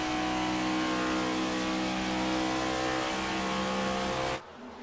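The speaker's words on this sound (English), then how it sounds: "all the sound of those cars right now as they work their way down into the corner again" NASCAR-style race cars roar loudly and continuously at Auto Club Speedway, engines howling as they accelerate toward a corner, the dense pack noise steady before cutting off abruptly near the end.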